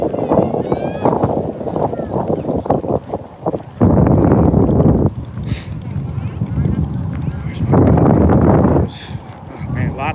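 Strong wind gusting over Vajiralongkorn Reservoir, heavy roaring buffets hitting the microphone in loud surges while someone talks over it.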